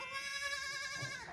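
Goats bleat in a farm goat shed at night, one long wavering cry close by over a steady low background hum.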